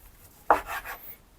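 A single knife cut through boiled chicken on a board while cubing it for a Tiffany salad with grapes, one crisp close chop followed by a short scraping tail, alone in a quiet room.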